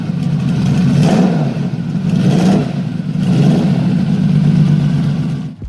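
A homemade Lamborghini-powered motorcycle built by its rider roars close and loud, its engine rising and falling in three or four rev surges before cutting off abruptly.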